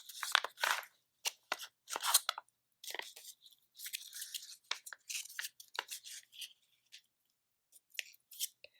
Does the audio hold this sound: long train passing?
no